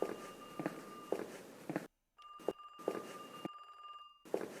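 A telephone rings in a horror video game, two clear electronic rings with a pause and silent gaps between them, heard alongside soft footstep thumps.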